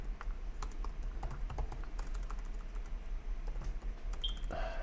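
Someone types code on a computer keyboard, scattered clicking keystrokes at an uneven pace, close and fairly quiet, with no talking.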